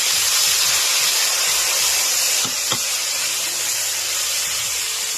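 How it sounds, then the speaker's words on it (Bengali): Ginger, chili and tomato paste sizzling in a hot pan, a steady broad hiss close up with a couple of brief knocks partway through and no talk. "এবার আমি যে আদা লঙ্কা ও টমেটো পেস্ট করে রেখেছিলাম সেগুলো দিয়ে দিলাম।"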